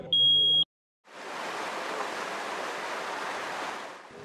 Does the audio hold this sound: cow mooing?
no